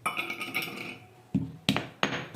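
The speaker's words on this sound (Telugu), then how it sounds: "అగరబత్తులు 2-3 ఇవన్నీ మెత్తగా పొడి కొట్టుకోవాలి" Agarbatti incense sticks pounded by hand into a fine powder, with a faint, busy rustle at first, then four sharp, fairly loud thuds spaced evenly toward the end.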